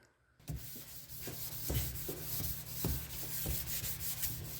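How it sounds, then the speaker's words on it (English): Sandpaper on a sanding block worked by hand over a firearm, moving toward a mirror polish; steady close rubbing and scraping with repeated stroke accents, continuous and alone. "we'll kind of go up with our sandpaper until we get that mirror shine we're looking for"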